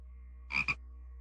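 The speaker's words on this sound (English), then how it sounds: "more like just a procession of croaks and clicks" A frog-like sound effect of two quick croaking clicks, crisp and clear, alone over a faint steady hum.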